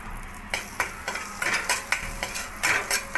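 Amul butter and a bay leaf sizzle in a kadhai. The hiss is loud and close, broken by repeated sharp scraping strokes of a utensil against the pan in an irregular rhythm, with no speech.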